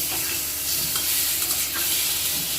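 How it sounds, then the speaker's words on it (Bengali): Ground chili paste and turmeric powder stirred into hot oil in a pan for a hilsa curry, a loud continuous sizzle with scraping stirs, close and alone. "দিয়ে দেবো হলুদ গুঁড়ো দিয়ে একটু নেড়ে নেবো"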